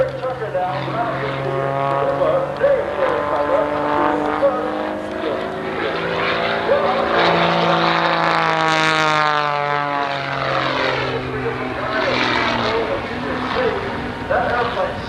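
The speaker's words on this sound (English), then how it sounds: "that airplane snapping backwards and forward, down to 25, snapping it backwards and forward" A propeller-driven aerobatic airplane at the 1989 Oshkosh airshow snaps backwards and forwards low overhead, its engine droning loudly and sweeping up and down in pitch as it passes and climbs, with a commentator's voice over it.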